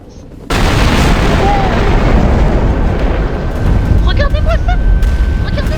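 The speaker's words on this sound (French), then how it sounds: "Alors regardons l'explosion." A hypersonic ballistic missile explodes in the nuclear strategy video game Nuke Tycoon: a sudden loud boom that swells into a sustained, roaring rumble with faint crackles near the end.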